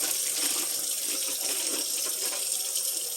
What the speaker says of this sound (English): So go ahead and rinse your meat if you rinse your meat.